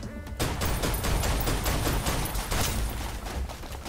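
Pistol shots in the video game Snowbreak ring out as a rapid, steady volley of sharp cracks. They sound loud and close, continue without a break for several seconds, and are heavy with game noise.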